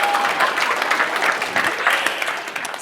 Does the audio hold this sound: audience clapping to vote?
yes